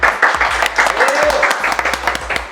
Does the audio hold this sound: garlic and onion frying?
no